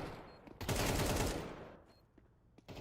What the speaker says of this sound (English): Okinawa cleaning up with the AK.